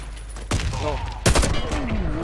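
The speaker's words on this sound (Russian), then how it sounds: "Я стреляю, пытаюсь что-то сделать, и никак." In an online shooter game, two sharp bursts of gunfire go off about a second apart, loud and close over a steady background hum, with a faint whistling tone afterward.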